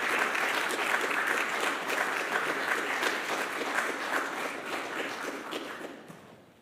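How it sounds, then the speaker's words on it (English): Audience applause at a Friday evening Shabbat service and temple annual meeting, a sustained wash of many hands clapping indoors, steady at first then gradually fading out. "if we could all give them a round of applause and thank them for their time"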